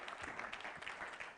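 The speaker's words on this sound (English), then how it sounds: "Maybe we can do an applause." Audience applause at a hydrogen net-zero conference panel, a steady dense patter of clapping that fills the short stretch at even loudness with little else audible.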